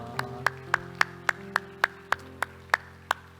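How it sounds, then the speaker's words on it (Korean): A church congregation claps in praise after a prayer, heard as about eleven evenly spaced, sharp claps in a steady rhythm, fairly close and alone over a sustained organ or keyboard tone. "우리 하나님께 영광의 박수 합시다."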